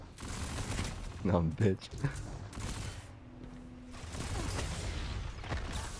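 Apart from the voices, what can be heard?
gunfire from a video game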